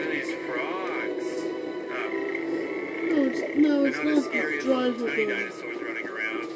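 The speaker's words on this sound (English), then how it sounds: "Look at these frogs." Frogs croak in the video game Lego Jurassic World, repeated chirping croaks over steady background game ambience, with a person talking over part of it.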